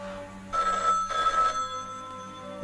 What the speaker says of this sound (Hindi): नंदिनी का फोन उठाता कौन है